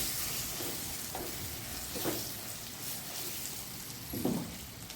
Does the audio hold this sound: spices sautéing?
yes